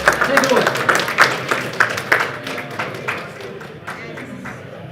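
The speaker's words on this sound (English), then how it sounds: "Let's get a big round of applause, get people excited to return to their seats." Conference audience at a privacy summit giving a panel a round of applause, loud clapping at first that thins and fades over several seconds.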